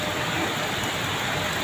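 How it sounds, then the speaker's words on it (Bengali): Heavy rain falls on a Dhaka street, a brief, unbroken hiss of dense downpour at steady loudness with no voices. "যেভাবে বৃষ্টি হচ্ছে, কিছুক্ষণ যদি এই বৃষ্টি যদি না থামে"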